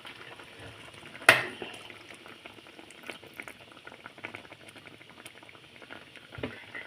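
Kara kuzhambu with lentils, brinjal, drumstick and coconut milk simmers at a boil, a close, steady bubbling and soft popping, with one sharper splutter early on and no voices.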